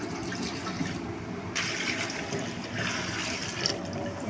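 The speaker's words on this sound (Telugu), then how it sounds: "అందులోనే కొన్ని వాటర్ వేసుకుందాం." Water pours into a cooking pot of milk, a continuous gushing fill that swells and eases a couple of times over a few seconds, close and fairly loud with no voices.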